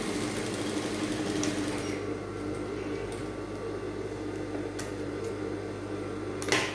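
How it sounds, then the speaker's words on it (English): Sewing machine stitching fabric for a lacing bar with eyelets, giving a continuous low motor hum with a steady mechanical whir and a few faint clicks, close and even, with no talk. "Now I'm sewing here."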